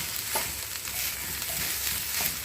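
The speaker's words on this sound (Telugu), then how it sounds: "ఇలా వేగుకోవాలండి బెండకాయలు" Okra sizzles steadily in a hot pan, a dense crackling hiss with a few soft stirring scrapes, close and even throughout with no voices.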